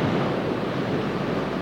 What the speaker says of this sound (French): Au moment où l'épreuve de slalom commence, le vent monte brutalement d'un cran.